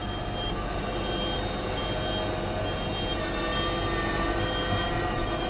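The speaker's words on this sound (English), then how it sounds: "listen to this beeper" Reversing beeper on a backing vehicle out in a field, a steady series of tonal beeps held over continuous engine rumble and broadband noise, moderately near.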